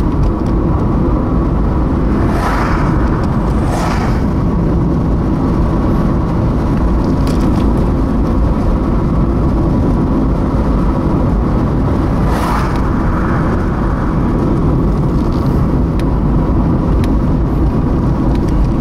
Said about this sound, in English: Struggling putt-putt.